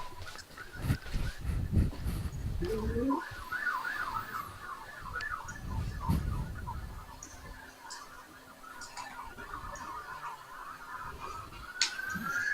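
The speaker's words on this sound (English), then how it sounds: "And then hear the sirens." A wailing siren rises and falls in long sweeping tones over steady background rumble, with occasional low thumps and a brief honk-like sound near the start.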